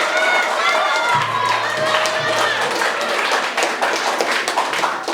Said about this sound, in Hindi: ताली यार।